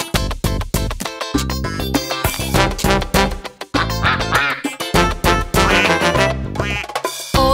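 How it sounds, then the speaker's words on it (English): A song's stylised duck quacks come in a rhythmic run over a bouncy children's nursery-rhyme backing, loud and upfront, repeating in quick pairs and singles. "With a quack quack here and a quack quack there, here a quack, there a quack, everywhere a quack quack."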